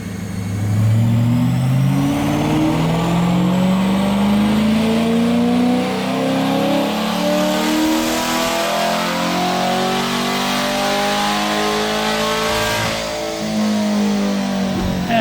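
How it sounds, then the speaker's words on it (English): A stock C8 Corvette Stingray strapped to a dyno roars through a full baseline pull, its engine note climbing steadily and loudly through the rev range before easing off near the end, close and dominant throughout. "Vlad straps her down for some baseline dyno pulls."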